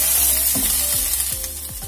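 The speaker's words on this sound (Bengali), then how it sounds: "আবারও 2 থেকে 3 মিনিটের মতন সবজিগুলো ভাজা ভাজা করে নেব।" Chunks of eggplant and cauliflower stems fry in hot oil in a pan, a steady close sizzle broken by a series of quick stirring scrapes, with no voices.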